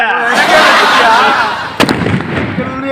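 A single sharp firecracker bang bursts out partway through, right after a stretch of someone talking, with more talking and rustling after it.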